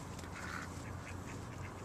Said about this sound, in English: Go say hello to the duckies.